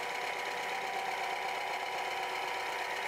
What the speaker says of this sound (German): Erneut wird der Antrieb über 80 Minuten 100 Mal um 22 cm nach rechts und wieder nach links gefahren.